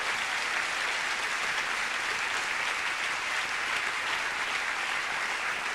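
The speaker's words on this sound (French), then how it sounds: "Vous autres, vous applaudissez" Sustained, dense audience applause fills a gala awards show hall, steady and loud throughout with no voices over it.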